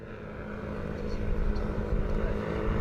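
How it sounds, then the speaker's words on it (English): Propellers of a long-endurance unmanned aircraft hovering in vertical takeoff mode during a field test, a steady low droning buzz passing close overhead, fairly loud and continuous, with faint voices in the background. "You can probably hear those props."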